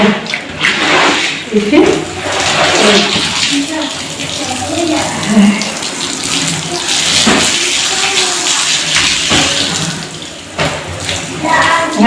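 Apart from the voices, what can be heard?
water from hose running while washing a carpet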